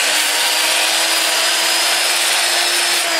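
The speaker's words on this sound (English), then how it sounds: "I'll be sanding all of this without the lathe moving" A 2-inch power sander works a spalted sweet gum wood-turned bowl held still on the lathe, giving a continuous high whirring hum with a rough abrasive hiss, close and steady without a break.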